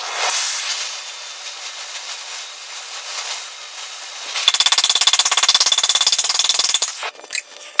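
A torch heats a coffin-style exhaust muffler on a hearse, hissing steadily. Partway through, a loud, rapid rattling burst cuts in, then stops abruptly.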